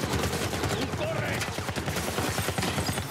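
Gunfire striking the player in The Last of Us remake on PS5, a loud burst of rapid shots and impacts in a fast, rattling rhythm over noisy game action.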